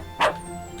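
A single short, bright yip from a magic dog in a farming RPG, summoned by a whistle, with a faint steady tone behind it.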